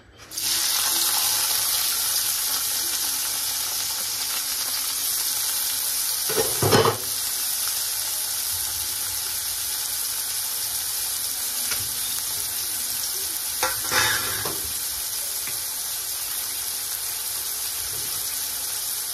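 Onion-garlic paste frying in hot oil for a fish gravy, a loud steady hissing sizzle throughout with a couple of brief stirring clatters, close up and with no talking.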